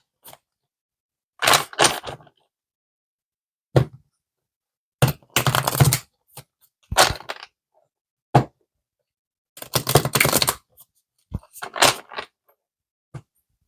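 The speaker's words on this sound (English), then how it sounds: "Shuffle this deck." Tarot cards shuffled by hand in repeated bursts of riffling and flapping, each a second or two long, separated by short pauses, with sharp taps as the deck is squared, close and fairly loud.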